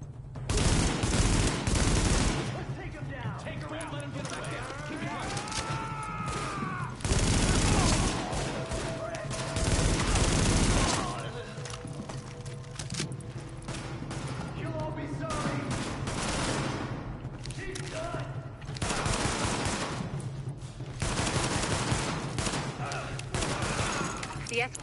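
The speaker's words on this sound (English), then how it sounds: "The escort party's taking heavy fire from the roof." Bursts of automatic gunfire and scattered shots in The Division video game, loud and sustained in clusters with brief lulls, as game voices speak over the shooting.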